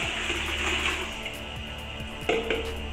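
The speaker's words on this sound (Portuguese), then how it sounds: "Vamos despejar um litro de água." A liter of water poured into a mixing container while preparing a homemade stain-remover batch, a steady splashing gush running continuously at moderate level with no talking.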